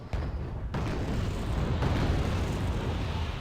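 Mortar blasts in a strategy video game, a dense, continuous rumble of overlapping booms and bursts, loud and sustained with no clear gaps and no talking.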